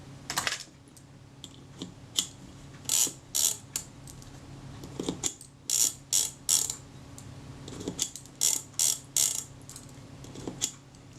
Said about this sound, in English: So the film advance is working correctly.